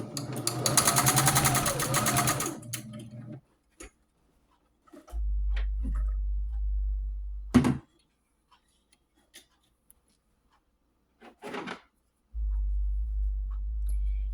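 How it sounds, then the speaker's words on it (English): A sewing machine fitted with a walking foot and set to a 2.5 stitch length quilts a pink rag quilt. A short, fast run of rhythmic stitching opens the clip, followed by scattered clicks and stretches of low motor hum. "I'm just going to check and make sure that my stitches are good"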